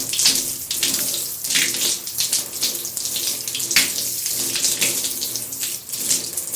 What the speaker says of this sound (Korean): 샤워를 하는데 샤워기 노즐이 파손되어 물이 옆으로 새어나오네요.